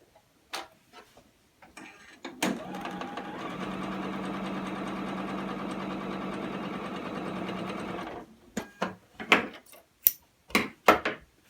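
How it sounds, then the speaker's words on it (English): A sewing machine stitches quilt-block fabric rows together in one steady, fast, continuous run of about six seconds, bracketed by scattered clicks and handling taps before and after. "So now I'm just going to start sewing my"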